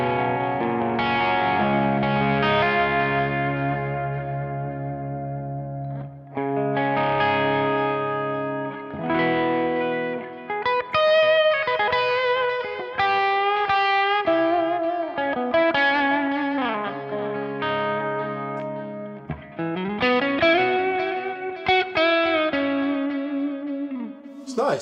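Electric guitar driven through a Movall Rocket Train overdrive pedal with added delay and reverb plays sustained distorted chords and melodic lines, notes trailing into echoing tails, loud and without talk.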